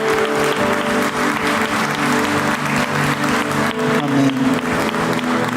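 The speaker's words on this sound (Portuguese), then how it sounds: "Salve de palmas." A church congregation applauds together at the close of a service, a dense, steady wash of clapping sustained throughout with a low hum or music tone running underneath.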